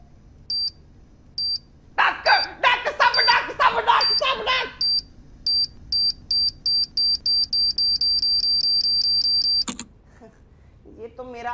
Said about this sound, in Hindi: ये तो मेरा अलार्म का टोन था।